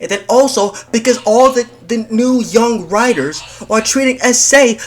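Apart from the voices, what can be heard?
No everyday noises stand out.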